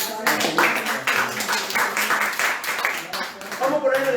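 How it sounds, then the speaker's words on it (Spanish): A church congregation breaks into sustained, dense clapping at a religious service. Voices rise through the applause and continue over it to the end. "Un aplauso"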